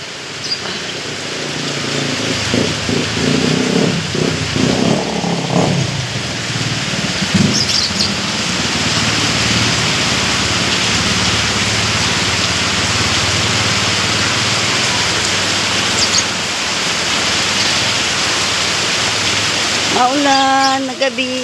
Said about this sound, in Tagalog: Maghapon ng ulan na.